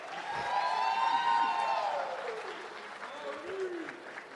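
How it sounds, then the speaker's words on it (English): Audience applause for the evening's MCs at a university club awards ceremony in Edinboro, a steady crowd clapping throughout with a few cheers, while a voice speaks over it at the start. "Give them a round of applause."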